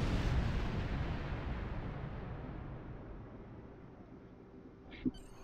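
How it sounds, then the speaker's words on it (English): An orbital bombardment in the game Star Trek Online rumbles as a loud, broad explosive roar that slowly fades over several seconds, with one short sharp burst near the end. "Misa calling down a bombardment"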